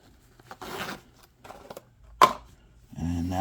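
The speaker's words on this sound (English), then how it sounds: "And then zip it back up." A heated vest jacket's zipper is drawn up in a few short rasping pulls, close and crisp between quiet gaps, followed by a brief voice at the end.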